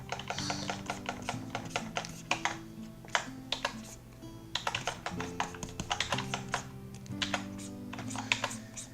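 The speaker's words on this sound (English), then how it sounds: "As you can probably tell by the incredible loud noise my keyboard is making right now." Loud, rapid clacking of a computer keyboard being typed on, a dense irregular patter of keystrokes running throughout over steady background music.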